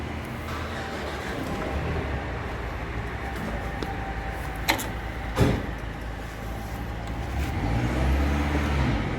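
A Fiat 480 tractor runs steadily as its hydraulics lift a trailer's dump bed, giving a continuous close engine rumble with a couple of brief knocks midway and a slight swell toward the end.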